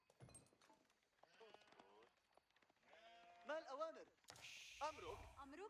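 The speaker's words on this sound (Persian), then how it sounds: "گوسفندای خوبی جمع کرده، 11 تا گوسفند" Sheep bleating in Age of Empires 4 during a ranked 2v2 match, several short wavering bleats in quick succession, clear and fairly close, with faint game clatter.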